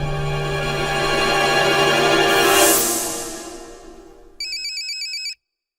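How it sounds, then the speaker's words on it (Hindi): A phone ringtone plays alone, a sustained electronic melody swelling then fading, followed by a short burst of rapid pulsing beeps before silence. "अरे, मुख्यमंत्री जी का फोन।"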